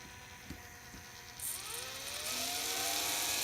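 A small servo motor turns under potentiometer control, a faint high whine and rising gear whir that grows louder after a couple of soft clicks, heard alone.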